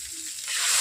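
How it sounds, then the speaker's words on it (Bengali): A short, bright sizzling hiss rises quickly as water is poured into a hot pan of fried vegetables, growing louder toward the end. "এরপর আমি কড়াইতে জল দিয়ে দিচ্ছি"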